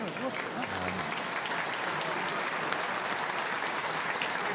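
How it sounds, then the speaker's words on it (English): Rugby crowd at a Northampton Saints versus London Irish match applauding, a steady distant wash of clapping throughout, with a commentator talking over it. "hence the applause from the crowd"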